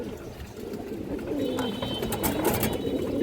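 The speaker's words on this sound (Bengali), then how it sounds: "এই যে দেখেন আপনারা অনেক সুন্দর একটা কবুতর" A pigeon coos softly amid steady background noise from a pigeon-selling setting, low warbling calls running continuously.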